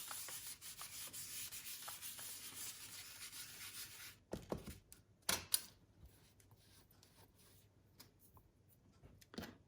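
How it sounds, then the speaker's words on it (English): An embossing powder buddy is pounced and rubbed over cardstock for greeting card embossing, soft brushy rubbing for a few seconds followed by several sharp, close taps and quieter scuffs. "I am going to pounce my embossing buddy over."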